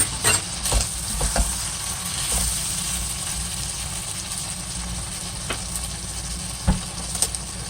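Sliced tomatoes frying with beef in a pan for spaghetti with tomato sauce make a steady, close sizzle under a low hum, with a few sharp utensil clinks and stirring scrapes scattered throughout.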